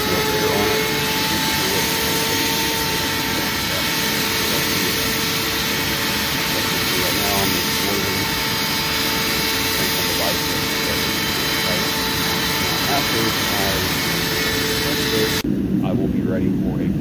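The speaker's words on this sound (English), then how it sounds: "After I get it clamped in, I will be hitting it with a shop vac." A shop vac roars continuously over forge-quenched AEB-L stainless steel clamped after heat treating in a home forge, a loud steady whine and rush that cuts off sharply near the end.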